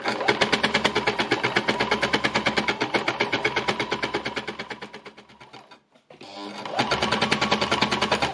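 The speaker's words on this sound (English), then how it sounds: "What I'm using the embellisher for in this situation is really just to sort of attach this piece of lace to the base fabric" A needle felting embellisher machine punches lace onto base fabric with a fast, even rhythmic chatter that runs loud and close, slows and stops briefly, then starts again.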